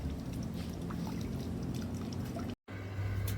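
Water pouring and trickling from a solar-powered pump into a garden dragonfly pond, a steady splashing flow with one brief dropout and a faint low hum near the end.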